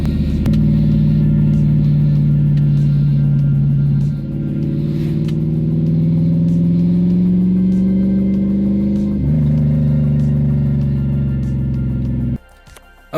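A Lexus IS300 swapped with a 1UZ V8 drives past with a loud, steady low engine drone that rises through gear-like pitch shifts before the sound cuts off abruptly near the end.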